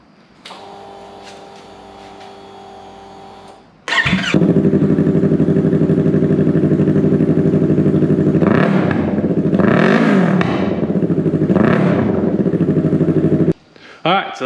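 A 2023 Yamaha R3 motorcycle with an eBay aftermarket exhaust fires up after a quieter lead-in, then idles loud and close with a raspy drone, rising in several throttle blips before shutting off abruptly near the end.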